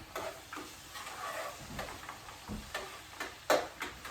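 Butter and chopped vegetables sizzle and crackle in a pan while cooking a keto dish, a steady broadband hiss with scattered louder pops and stirring clicks throughout, no voices.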